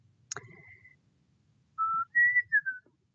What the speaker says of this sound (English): I'll stop whistling because I'm sure that is super annoying in your ear.